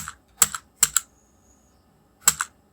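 Computer keyboard in accounting software, a few sharp key clicks close by in quick pairs, then a final keypress like Enter after a quiet gap, with no talking.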